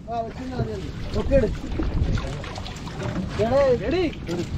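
On a squid-fishing boat in the Arabian Sea, a steady engine drone and splashing water carry on under men's close, raised voices calling to each other.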